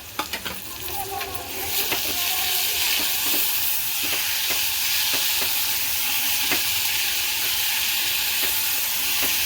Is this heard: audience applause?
no